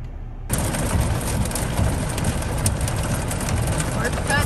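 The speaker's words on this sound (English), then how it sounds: "now we're having heavy rain, strong winds, and hail" Heavy rain with strong winds and hail during a storm near a lake in the Ouachita mountains, starting abruptly as a loud, dense, steady roar that continues without break.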